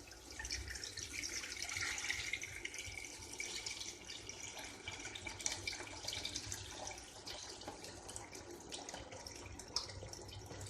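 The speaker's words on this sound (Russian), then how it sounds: "Теперь заливаю холодной водой." Running tap water splashes steadily into a metal pot of washed meat, a continuous hissing pour of cold water with small clanks and drips.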